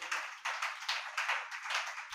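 A congregation at a Sunday church service claps in a steady rhythm, with repeated bursts of clapping about every half second that sound fairly distant and soft.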